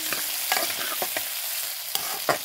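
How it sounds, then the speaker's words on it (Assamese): Potatoes frying in a pan sizzle steadily as they are stirred, with repeated quick scraping strokes and a few sharper clinks of the utensil, close and clear. "এইখিনি অকণমান লৰাই দি"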